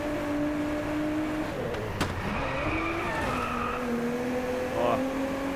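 A Nissan Skyline GTR, a 4x4, accelerates in the racing game Driveclub, its engine note climbing and shifting steadily, with tire noise and a brief knock mixed into the continuous drone.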